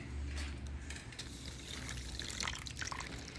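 Salt water pours from a container in a quiet, splashy trickle with light drips, faint and close, in a home freezing experiment.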